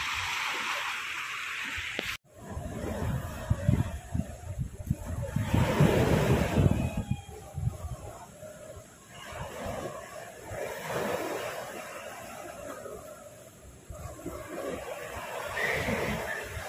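Ocean surf at Tanjung Pinggir beach in Sekupang, near the Singapore border, washes in steadily with rolling waves and gusts of wind buffeting the microphone, after a sharp knock at the start.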